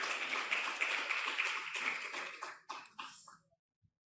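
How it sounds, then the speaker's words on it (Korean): A church congregation at a Sunday service claps for the young adults serving meals, a burst of many hands that thins into a few scattered claps and taps before stopping into silence. "박수."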